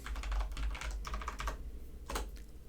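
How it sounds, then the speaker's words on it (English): Steady, quiet clatter of keys on a computer keyboard as an IP address is entered, a run of close, rapid keystrokes with a brief pause before a final burst. "Let's type in the IP address."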